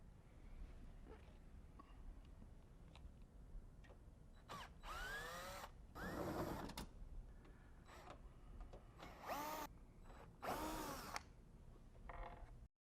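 A power drill backs out screws holding a panel on a Carrier OptiClean unit, in several short whirring bursts with rising and falling pitch, separated by quiet handling clicks and fairly close.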